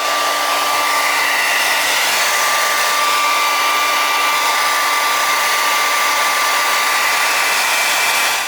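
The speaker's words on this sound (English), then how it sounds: "All right, blow dryer." A loud, steady hair dryer blowing close up, a constant airy whoosh with a thin motor whine, running without pause.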